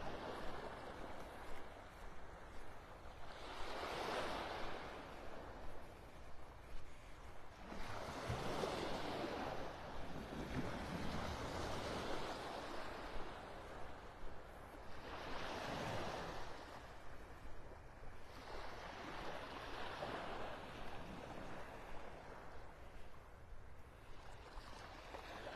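Ocean surf at Vanderbilt Beach in North Naples, Florida, with waves breaking and washing ashore in slow, repeated surges roughly every five seconds, under a steady wash of wind and water and no talking.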